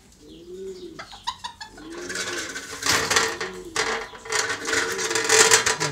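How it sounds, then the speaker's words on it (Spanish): Pigeons coo repeatedly, close and loud, with soft rhythmic rolling calls mixed with rattling and scraping from around a loft cage, over a busy background. "la palomita que encajonó a última hora los otro día"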